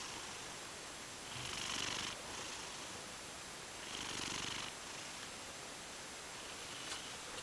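A cat purrs steadily up close, with two louder snorting breaths standing out over the low rumbling drone.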